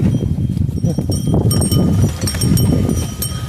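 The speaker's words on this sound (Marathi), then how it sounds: "हे बघू शकता तुम्ही एकदम फर्स्ट क्लास असे चालते बैल." Irregular thudding hoof steps of bullocks pulling a plough over soil, close by, with a faint bell-like jingle and scraping.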